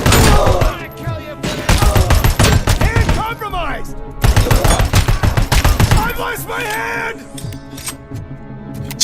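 Gunfire and reloading in a RoboCop video game: loud bursts of rapid automatic shots in a dense rattle, broken by short pauses and mechanical reload clunks, close and dominant throughout.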